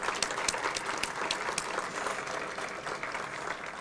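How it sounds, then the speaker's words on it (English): Audience applauding a speaker at a business appreciation breakfast in Northglenn, a steady wash of clapping from a room full of people that holds evenly for a few seconds. "So how about just one more big round of applause for her for coming over here."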